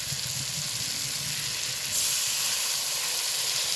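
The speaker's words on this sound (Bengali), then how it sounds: "জল দিয়ে আরও ভালোভাবে মশলাটা কষিয়ে নেবে" Masala frying in oil in a pan for an egg and boiled potato lunch dish hisses and sizzles steadily, with a brighter, louder surge of steamy sizzle about halfway through as water hits the hot spices.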